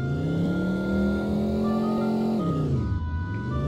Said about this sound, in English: That's extreme revving